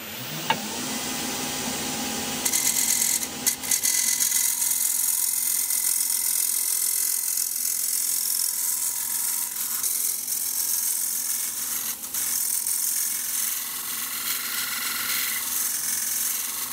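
A wood lathe scraper takes a finishing cut inside the bottom of a turned bowl for a sword part, giving a steady loud high hiss and chatter that runs continuously, with a few sharper clicks early on.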